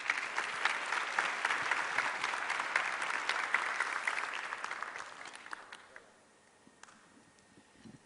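An audience at a risk conference in Central America claps for a World Bank urban development specialist, a steady round of applause that tapers off after about six seconds into quiet.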